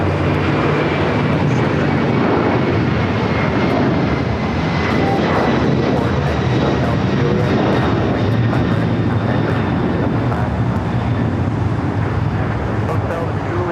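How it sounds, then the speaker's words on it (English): A Boeing 767-300ER jet takes off from runway 25 right at LAX, its engines a loud, sustained roar that fills the whole stretch without letting up, with faint voices underneath. "767 to 300ER heading to Lima, Peru. Now taking off 25 right."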